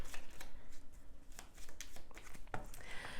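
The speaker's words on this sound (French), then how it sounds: "je vais placer une carte au niveau de chaque domaine" Tarot cards slide, riffle and slap down onto a table in a quick, close run of soft papery strokes and taps, with no talking.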